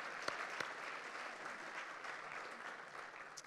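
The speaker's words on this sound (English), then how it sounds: "let's give him a round of applause" An audience at a keynote speech event claps in a steady, fairly quiet round of applause for a birthday, with a few sharper individual claps standing out early on.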